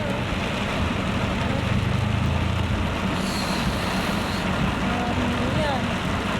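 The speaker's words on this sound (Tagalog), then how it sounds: "Nakakulong na kami sa may malakas na ulan." Heavy rain keeps up a steady, loud wash of noise in a storm, with a deep rumble underneath and faint brief tones drifting through.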